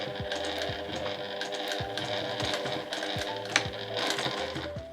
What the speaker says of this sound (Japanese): ここの今縫ってきた縫い目のところを重ねて最後返し縫いします。